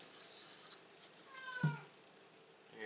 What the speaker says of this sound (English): my cat meowing in the background there